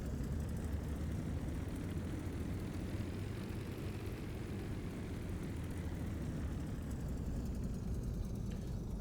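A Spitfire Mk IX's piston engine drones steadily while taxiing in DCS, a dense, rumbling roar with propeller buzz that stays constant and close throughout, with no voices.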